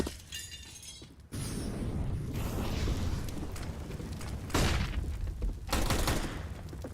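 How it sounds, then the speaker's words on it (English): Tech 9 pistol firing in a Counter-Strike esports match, heard as sharp, loud shots among dense game noise, with bursts of sound near the middle and end of the clip. "Gives a free Tech 9 tap to Ruben"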